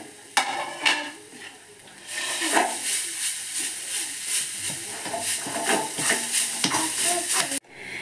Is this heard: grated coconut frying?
yes